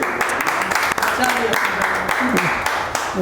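A room of people at a first aid training session claps in a dense, steady patter of applause that carries under a speaking voice.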